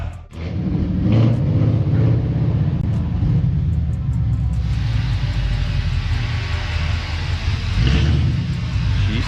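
Car exhaust fitted with new mufflers, rumbling loudly and steadily at close range with a deep low tone and brief rises in revs, no talking over it.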